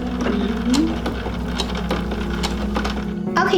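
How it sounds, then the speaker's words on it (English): A sewing machine running steadily with a low mechanical hum and rapid clicking of the stitching mechanism, close by, with a few sharper clinks. "put your presser foot down always before sewing, or your sewing machine will get all jammed up"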